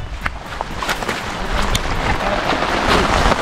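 Heavy rain with large drops falls steadily on an outdoor camp and tent, a dense hiss with scattered patters and gusty noise holding at a fairly loud level throughout.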